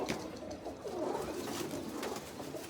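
Soft repeated cooing from a group of pigeons close by, continuous and unbroken, with no voices.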